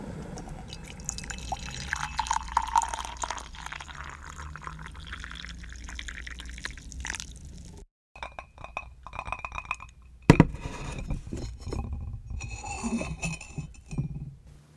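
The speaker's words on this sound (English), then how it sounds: "I have some tea being prepared right now." Tea pours from a pot into a glass cup with a soft trickling stream, then stops. Scattered drips, small clinks of glass and handling sounds follow close up.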